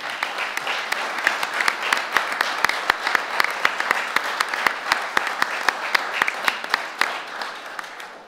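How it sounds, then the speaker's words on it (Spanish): Delegates at the national congress of Uruguay's Movimiento Nacional de Rocha break into sustained applause after a unanimous vote, a dense roomful of clapping with sharp individual claps standing out. "Un aplauso."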